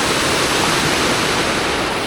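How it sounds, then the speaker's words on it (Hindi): Water rushing along a mountain stream beside a trail near a hidden village in Himachal, a steady, close, loud broadband wash with no breaks and no voices. "दोनों तरफ पानी जाता है"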